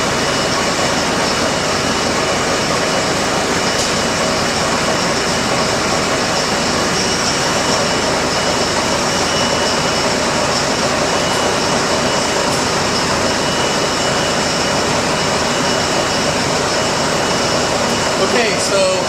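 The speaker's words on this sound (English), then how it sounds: "So I'm going to fire up the tractor and lift it up and turn it on." A New Holland tractor engine drives a PTO generator, giving a loud, steady, unbroken mechanical drone with a constant hum that holds throughout.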